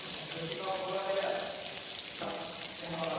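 Large onions sautéing in a pan for Pallipalayam chicken give off a steady, soft sizzle that runs continuously at moderate level, with no talk over it.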